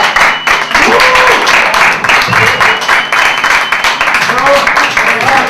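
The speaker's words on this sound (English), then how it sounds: "keep that applause going" Audience applause at a comedy club stand-up set, a steady wash of clapping with cheers and voices mixed in, loud and continuous throughout.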